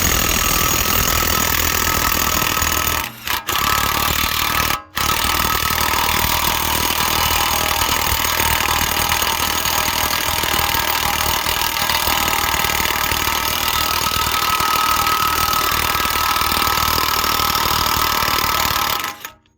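An electric impact tool works loose the front wheel hub nut on a second-generation Toyota Tacoma, giving a loud continuous hammering rattle close up, with two brief pauses early on and then a long sustained run.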